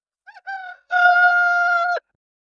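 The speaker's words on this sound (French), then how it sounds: "Le coq du voisin qui chante à 4 heures du matin" A neighbour's rooster crows loudly and close, with two short opening notes followed by a long sustained cock-a-doodle-doo call in otherwise silent surroundings.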